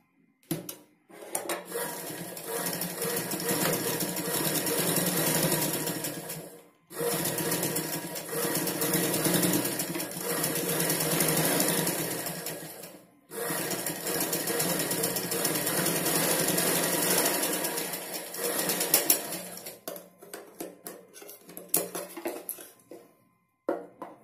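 Sewing machine running in long continuous bursts while stitching blouse fabric, with two short pauses between runs and a softer, choppier stretch near the end.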